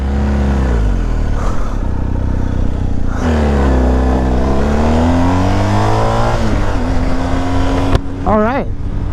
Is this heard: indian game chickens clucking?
no